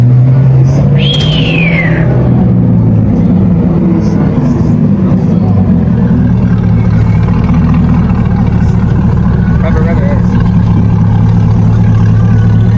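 A Corvette Z06 engine rumbles low and steady at moderate distance, with a brief high whistle-like chirp early on and faint murmuring voices in the background.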